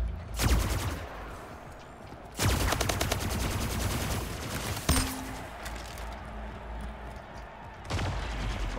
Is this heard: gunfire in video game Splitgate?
yes